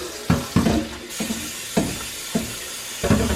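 Hot running water and soap washing out a Berkey water filter basin, with repeated sharp knocks and clatters of the container against the sink over a running-water hiss.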